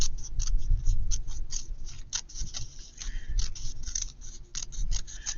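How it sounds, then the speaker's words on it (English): Scissors snip through tape in a DIY cardboard house build, a run of sharp close metallic cuts in a quick uneven rhythm, with handling rustles between them. "And I cut a little bit of the tape off,"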